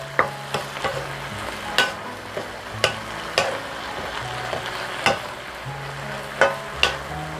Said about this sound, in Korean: 그래서 또 달달 고추가 나른해질 때까지 볶아줍니다